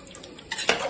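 A spoon stirs beef and ash gourd curry in an open pressure cooker, giving a brief scrape and clink of metal against the pot, close and fairly quiet with no talking.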